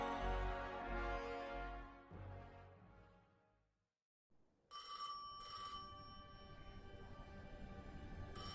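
Telephone ringing in the Destiny 2 video game, a sustained bright electronic ring that follows a fading low rumbling passage and a brief silence, continuing steadily to the end.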